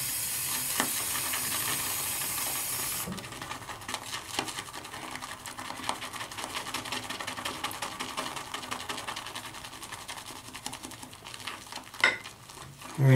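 A shaving brush swirls Wickham Cashmere shaving soap into a lather in a bowl, giving a steady wet, crackling hiss that runs throughout with small clicks.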